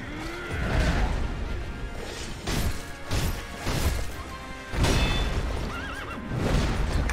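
A horse in Sekiro: Shadows Die Twice whinnies loudly several times over pounding hoofbeats, with heavy crashes and thwacks of combat mixed in.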